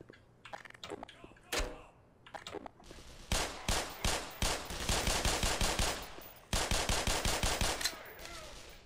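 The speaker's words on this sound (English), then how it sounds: "I'm just gonna run and shoot at them." Gunfire in the shooter game Black Mesa comes as a string of sharp shots, first scattered single pistol cracks and then dense rapid bursts that hit hard and sound close.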